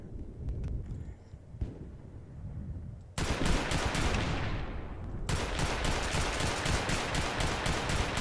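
Rapid bursts of automatic gunfire from the MK11 gun in the Roblox game Oof Brigade, loud and continuous after a quieter opening, with dense rattling volleys running to the end.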